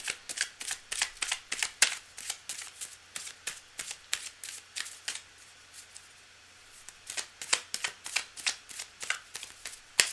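A deck of tarot cards shuffled by hand in a quiet room, giving a fast, even run of soft crisp card snaps that pauses briefly midway and then resumes, with no talking.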